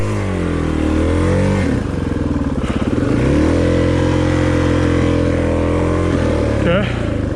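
A heavy four-stroke Deere Z400 dual-sport motorcycle engine revs loudly and steadily close by, its pitch climbing and falling through throttle changes on a trail ride, with no talk over it.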